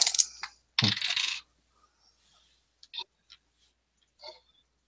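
Dice rattle and tumble across a table during a tabletop role-playing game session, with two loud bursts of clattering followed by a few faint, scattered clicks as they settle.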